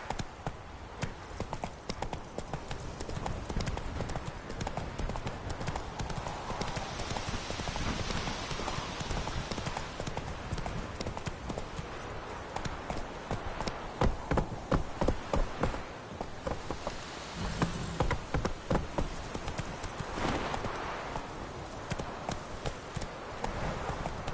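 Hooves of the horse Roach galloping in The Witcher 3 video game, a fast continuous clip-clop rhythm at close range lasting throughout, with little else over it.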